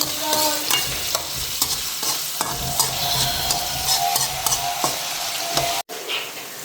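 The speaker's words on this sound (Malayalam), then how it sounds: "അതിനകത്തേക്ക് നമ്മൾ കുറച്ച് കരിവേപ്പിലിടാം ചെറുതായിട്ടൊന്ന് നന്നായിട്ട് ഇളക്കി കൊടുക്കാം" Curry leaves sizzle in hot oil in a frying pan as a spoon stirs and scrapes repeatedly, a close, steady crackling broken by sharp utensil knocks and a brief near-silent gap near the end.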